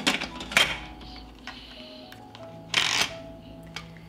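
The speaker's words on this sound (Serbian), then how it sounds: "Zatvaram ekspres lonac" A pressure cooker lid is fitted and closed, giving several metallic clicks and scrapes with two louder clattering bursts, close and without speech.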